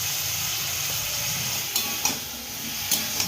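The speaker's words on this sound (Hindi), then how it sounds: "थोड़ा सा अदरक डालेंगे" Ginger dropped into a hot pan and stirred, a steady close sizzle and hiss with a few light scrapes of a utensil against the metal, no voices.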